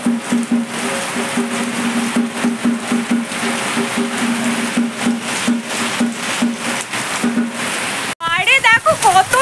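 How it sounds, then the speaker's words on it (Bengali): Heavy rain pours down steadily in a broad hiss with irregular patters during Durga Puja, while a person talks over it throughout. "কত জোরে মুষলধারে বৃষ্টি হচ্ছে"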